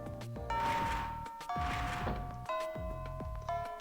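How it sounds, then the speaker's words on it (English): A school bell in the Fate/Extra video game chimes in a repeated series of bright, ringing strikes, each tone sustaining with a metallic decay, clear and alone. "Miss Fujimoto barges into the classroom as the bell sounds."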